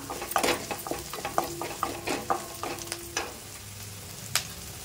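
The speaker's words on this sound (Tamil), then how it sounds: "வெங்காயம் சேர்த்து வதங்கிட்டு இருக்குது" Onions sauté in a pan while being stirred, a soft steady sizzle broken by repeated scraping strokes of a spoon against the metal, close and with no talking.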